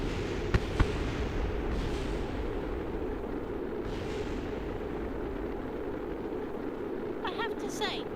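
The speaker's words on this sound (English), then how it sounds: "the multiple smaller explosions was not what I was expecting" Several small explosions go off in the Kerbal Space Program game: a couple of sharp pops early, then muffled booms and crackling over a steady rumble, with a speaking voice faint in the background.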